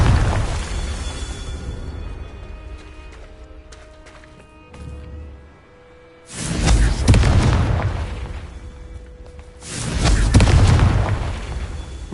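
Fire-spell explosions in a Hogwarts Legacy PS4 game blast in two loud, booming bursts, each rolling on for a few seconds over quieter game music and ambience.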